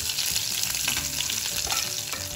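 Ring samosa filling of cumin and green chilies frying and being stirred in a hot pan, a steady close sizzle with scraping stirring strokes throughout, no voices.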